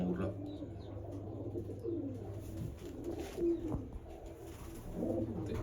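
Domestic pigeons of a Narayangarh bloodline coo softly and repeatedly nearby over a low background hum, with a few faint chirps mixed in.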